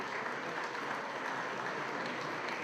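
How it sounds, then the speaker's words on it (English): Applause from an audience at the MV Agusta F2 motorcycle launch event, a dense, steady wash of clapping from many hands that holds evenly for a few seconds. "A round of applause."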